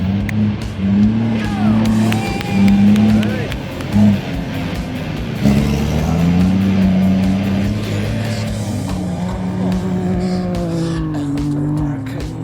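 Rally vehicles drive past on a desert track, engines droning and rising as they go by, with tyres and motors blending into a steady loud roar while people talk over it.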